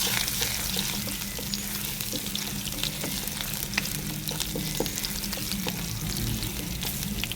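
Chicken pieces fry in ghee in a pan, a steady dense sizzle with crackling pops and occasional stirring scrapes, continuous and close with no talking.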